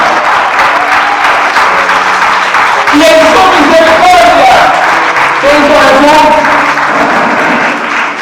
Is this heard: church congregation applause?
yes